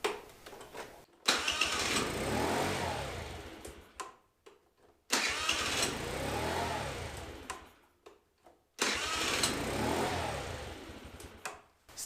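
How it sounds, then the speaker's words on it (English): A 50cc Chinese scooter engine cranks on its electric starter three times, each start a loud churning whir lasting a few seconds before cutting off, separated by short pauses. "so let's test that starter."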